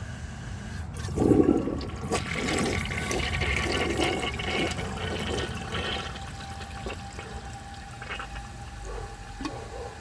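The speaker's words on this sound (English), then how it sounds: "then I'm going to flush it again and see if it has the power to take it through" A 1981 Briggs Conserver concealed jet toilet flushes with a loud rushing gush that fades into swirling, gurgling water and a steady refill trickle, close up with no talking.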